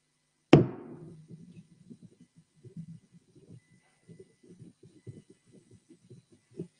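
At a sale of Islamic, Indian and Iranian antiques, an auctioneer's gavel lands once with a single sharp, loud knock, followed by faint, low murmuring voices in the background.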